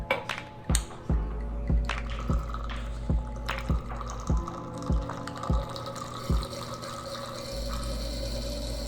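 Wine poured through an aerator filter, a series of sharp, evenly spaced drips and splashes falling into liquid, close and fairly quiet, slowing toward the end.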